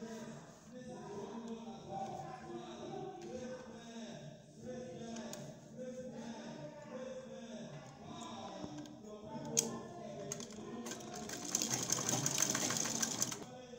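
A sewing machine runs in steady rhythmic bursts while stitching the hem of a pleated bubu gown, moderately close, with a louder busier stretch near the end and some faint talk underneath.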